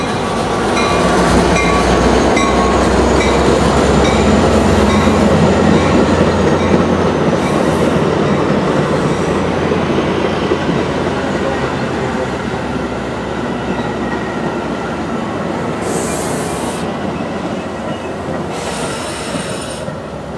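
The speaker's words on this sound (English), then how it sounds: "The next outbound Metra train from Chicago is now arriving in your station." A Metra commuter train rolls into a suburban station, with loud continuous wheel squeal and rumbling rail noise throughout as it slows along the platform.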